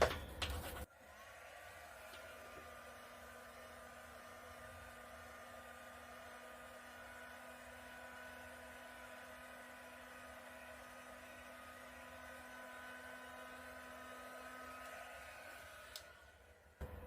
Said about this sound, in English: I'm quickly going to hit that with a heat gun.